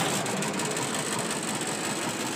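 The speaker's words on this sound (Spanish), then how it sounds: "Ahora vamos a subir al tractor. Le vamos a dar arranque." A tractor's diesel engine runs at a steady idle after being started, a continuous rough rumble with faint knocking held close throughout, with no speech.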